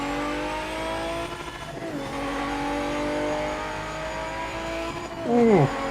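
A race car engine in the racing video game PMR revs and holds a steady harmonic drone, then climbs sharply in a loud rising burst near the end, with no talking over it.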